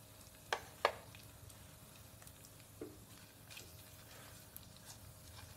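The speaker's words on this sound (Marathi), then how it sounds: "फोडणी जरा आपण परतूया म्हणजे ती छानपैकी तडतडेल" Whole spices (bay leaf pieces, cardamom pods and black peppercorns) crackle in hot tempering oil for pepper chicken, with a few sharp pops early on and then sparse, faint ticks against a quiet background.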